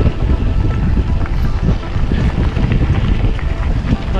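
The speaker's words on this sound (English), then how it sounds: "Very windy today, so we're cycling into a headwind here." Strong wind buffets the microphone while cycling into a headwind on an Irish gap road near Wicklow: a loud, constant low roar and rumble that surges slightly throughout, with no gaps.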